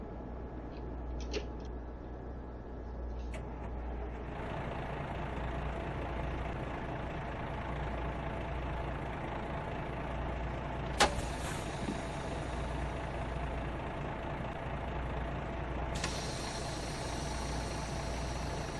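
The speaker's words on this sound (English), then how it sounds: "Got the truck running." A heavy truck engine idles and runs steadily in American Truck Simulator, a constant low rumble holding throughout with brief clicks and a short sharp knock near the middle, no voices present.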